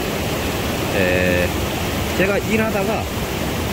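Loud rushing water at Gumunso gorge in Taebaek, a steady broadband roar filling the whole clip, with a person talking over it midway.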